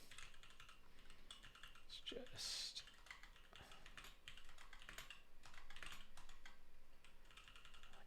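Fingers tap a computer keyboard in quick, irregular bursts of close, light clicks while coding, with someone talking over the typing.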